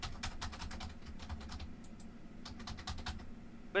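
Rapid clicking of keys on a computer keyboard in bursts with short pauses, fairly close, with no talking.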